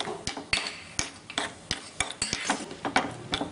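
A spoon stirs almonds frying in ghee in a small tempering ladle, giving repeated close metallic scrapes and taps at an irregular rhythm over a faint sizzle, with no voices.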